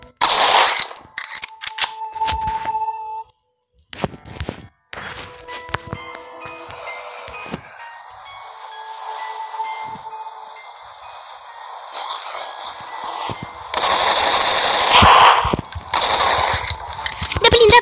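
Gunfire rings out in the Slendermen video game as sharp, loud bursts and clanging shots, scattered with pauses and ending in a dense, sustained stretch, while a player talks at times.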